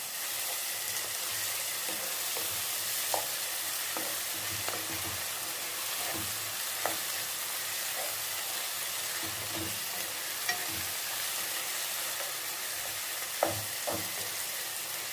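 Chicken curry with chana dal sizzles steadily in a pan while a spoon stirs and scrapes through it at irregular intervals, close and continuous.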